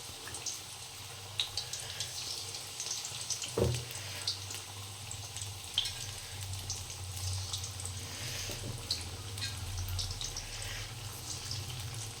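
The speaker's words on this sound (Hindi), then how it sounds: "पकौड़े को बनने देते हैं धीमी धीमी आंच में।" Pakoras frying in well-heated oil over a low flame give a steady, close hiss with scattered soft crackles and pops, a low hum underneath, and no talking.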